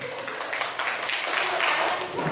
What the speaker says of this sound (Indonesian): Dapat bonusnya tepuk tangan.